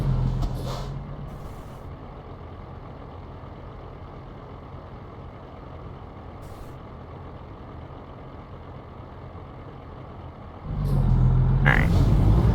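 Heavy truck traffic rolls along Interstate 39 overhead in a Midwest driving game, a steady distant rumble and tire drone that swells louder near the end with an air-brake-like hiss.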